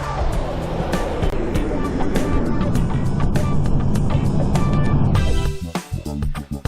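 A car drives in a video game, its engine droning loudly and steadily with shifting pitch before cutting off abruptly near the end, followed by scattered lighter game sounds.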